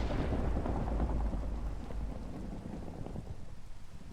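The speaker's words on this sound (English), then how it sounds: "I heard an explosion. I think lightning's hitting stuff." Thunder and lightning strikes in the Minecraft modpack Monifactory: a deep, heavy rumble fades slowly under steady falling rain, with no other sounds.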